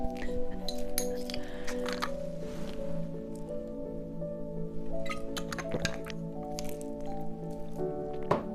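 A drinking glass of water clinks faintly during sipping, with small light taps and wet squishing sounds over a steady hum of tonal background, close by and without speech.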